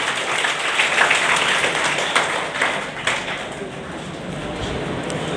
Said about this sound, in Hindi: चलिए तालियां एक बार फिर से बजा दीजिए